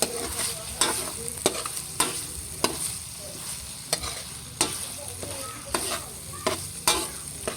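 Ground meat sautéing in a pan for spaghetti sauce: a constant sizzle broken by regular sharp scraping strokes of a spatula, roughly one every half second, close and without talk.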